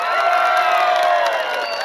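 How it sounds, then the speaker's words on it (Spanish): A crowd at a town festival in Azacualpa, Chalatenango, cheers and shouts together for a competing couple in a sustained, loud burst of voices, with the excitement holding throughout. "¡Aplauso fuerte para la primer pareja!"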